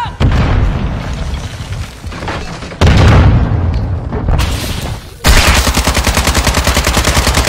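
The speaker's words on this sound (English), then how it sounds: "Stun grenade out!" Stun grenades and gunfire burst in a first-person shooter match, heavy booming blasts followed by a rapid rattling stream of automatic shots, loud and close.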